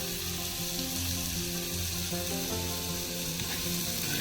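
Garlic and green chilli fry in a hot pan with a steady, close sizzle and faint stirring sounds throughout. No one speaks.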